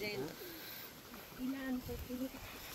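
Wild birds call with a few soft, low cooing notes, close by, partly buried under a person talking over the outdoor background.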